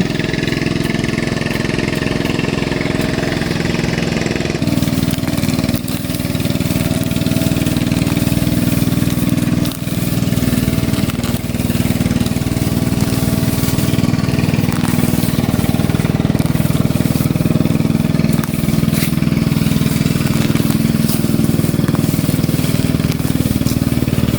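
A grass cutter's small engine runs steadily on a farm field, a loud continuous drone with a brief shift in pitch near the start, and no talking over it.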